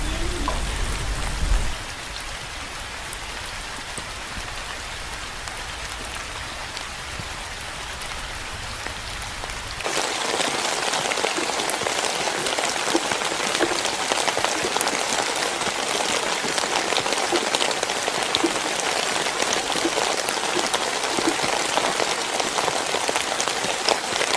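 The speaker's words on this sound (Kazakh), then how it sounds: "Бұл көріністердегі жай ғана бір жайлы жаңбыр." Gentle rain falls steadily and evenly, a soft continuous patter that grows noticeably denser and louder about halfway through, with no voices.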